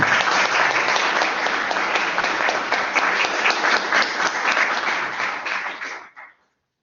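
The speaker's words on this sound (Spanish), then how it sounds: "Pues pido un aplauso para los dos ponentes." A room full of people applauds two speakers at a financial markets event, dense even clapping sustained for about six seconds before cutting off abruptly.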